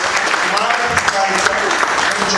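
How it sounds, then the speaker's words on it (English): A crowd at a South Melbourne FC VIP event applauds Martin Foley, Victoria's Minister for Health, with loud, continuous clapping mixed with audible voices and cheering throughout. "Can I have a big round of applause for Martin?"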